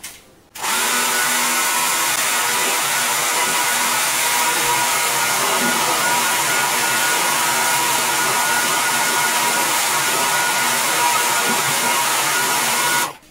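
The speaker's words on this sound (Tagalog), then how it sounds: "Gamitan natin ng blower para yung kapit ng resin dito ay" A blower dries a damp surface before epoxy resin is applied, a loud, steady rushing roar that starts abruptly, holds level for about twelve seconds and then cuts off.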